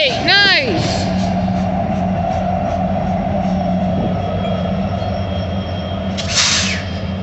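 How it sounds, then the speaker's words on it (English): A southbound Union Pacific freight train led by locomotive UP 5906 approaches near Stockton, California, its steady low rumble continuous and loud, with a horn-like blast near the start and a person talking over it. "We definitely got a train coming in."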